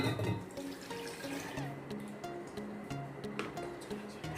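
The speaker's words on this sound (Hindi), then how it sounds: "एक जार लें, उसमें 1 कप दूध डालें" One cup of milk pouring into a blender jar for a strawberry milkshake, a soft, quiet gurgling liquid stream lasting a few seconds.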